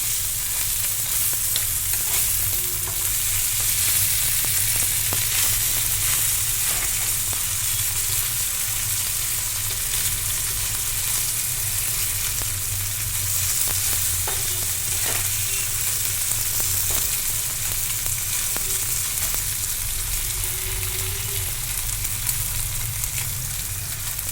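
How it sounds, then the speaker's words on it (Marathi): Bombil (Bombay duck) fish frying in plenty of oil on a tawa over a high flame, four or five at a time, giving a steady, close, continuous sizzle with no talk throughout. "एका वेळेला चार ते पाच बोंबील सहज फ्राय होतात"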